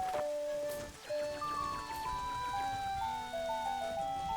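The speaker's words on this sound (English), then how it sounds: "You may or may not have noticed that it is raining today. It always rains on day 2." Rain falls steadily in Majora's Mask on the N64, a soft continuous patter sitting under game music with melodic tones throughout.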